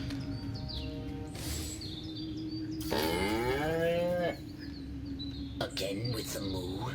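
Cattle moo in the video game Destroy All Humans, a loud drawn-out call rising and falling, with shorter animal calls and bird chirps around it over a game soundscape.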